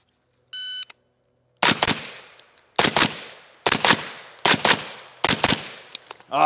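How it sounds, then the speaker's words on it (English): Gunshots at a shooting range target, five sharp loud cracks in a spaced series, each with a short ringing tail, preceded by a brief electronic beep. "So let's go ahead and shoot it."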